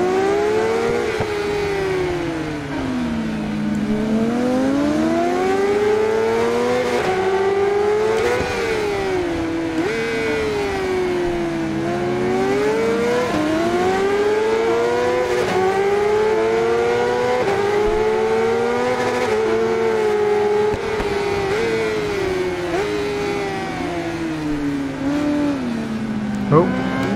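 600cc sport bike engine in RIDE 5 during a EuroStock Sport Bike 600 Cup race, a loud continuous high-revving whine that climbs and bounces against the rev limiter again and again through corners, with a voice talking faintly underneath.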